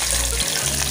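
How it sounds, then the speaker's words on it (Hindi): Milk poured into a pan of lightly browned hot ghee, a steady watery stream with a sizzling hiss that briefly dips midway. "अब मैं इसमें डालूँगी दूध।"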